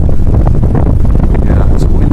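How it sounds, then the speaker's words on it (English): Strong wind roars across the microphone beside a vertical axis wind rotor generator in Landers, a loud, continuous low-frequency buffeting that never lets up. "it's a windy day out here in Landers"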